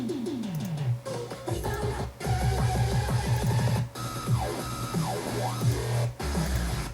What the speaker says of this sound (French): Fait que là, je vais faire terminer, puis la musique va jouer.